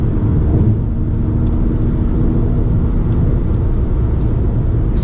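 A 2015 Mitsubishi Outlander GT with a 3-liter V6 accelerates at part throttle, heard from inside the cabin. The engine drone is loud and steady and rumbles low, with road noise under it and no speech.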